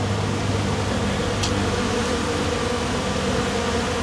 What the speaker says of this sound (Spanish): Adentro del cajón hay entre 30 a 60 mil abejas, imagínense.